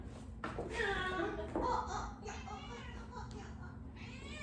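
A cat meows several times, high and wavering, mixed with a voice and laughter close by.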